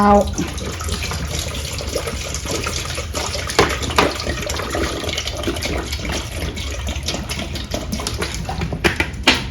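Plain water runs steadily into a pot for a simple soup broth of stuffed bitter melon, a continuous close splashing pour that lasts throughout with a few clinks.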